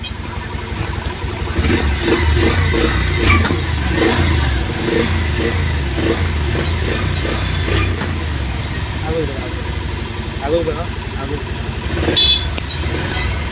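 A Bajaj Pulsar 150 motorcycle engine revs and accelerates up close, its loud throb rising and falling continuously, with an apparent clutch pickup fault.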